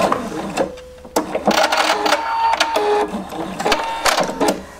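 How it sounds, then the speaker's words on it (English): A sewing machine running a straight stitch to join stretchy dress fabric pieces, close and loud, with a busy mechanical whir that pauses briefly and then resumes in short runs. "I'm going to join my pieces, and I'm going to just make a straight stitch"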